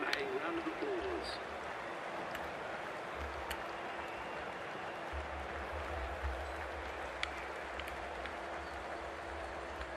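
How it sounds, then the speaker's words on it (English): A crowd applauds in a broad, hissing wash of clapping, fairly faint, with a low rumble starting midway. From the cricket video game Cricket 24. "Please give them a round of applause."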